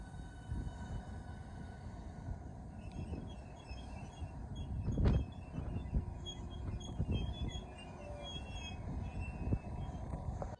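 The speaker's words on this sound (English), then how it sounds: "Southeastern high-speed service from London St Pancras International to Ramsgate via Faversham and Margate." A Southeastern Class 395 high-speed train, unit 395/006, runs at Gillingham on a diverted service to Ramsgate, giving a steady low rumble of wheels and motors with a brief louder surge midway, alone with no talk.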